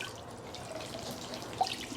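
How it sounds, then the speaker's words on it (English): Water flows and splashes steadily into a small DIY tabletop pond bowl, a soft continuous trickle with one brief brighter splash near the end, close and fairly quiet. "the water flows. That fills the whole bowl."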